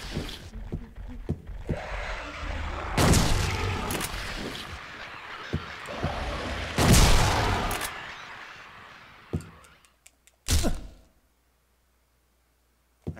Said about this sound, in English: I don't know if you could hear it over the shotgun blast